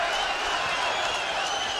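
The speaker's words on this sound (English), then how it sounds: "the crowd looking to will the champion into winning" A boxing arena crowd sends up a dense, continuous wash of cheering and applause, loud and sustained throughout.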